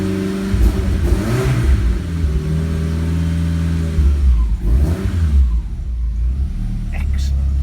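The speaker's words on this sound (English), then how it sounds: "I love that Super Sprint exhaust." A Lancia Delta Evo1 engine revs through a Super Sprint exhaust, close and loud, its deep rumble rising and falling in repeated blips with brief pauses, a voice faintly present over it.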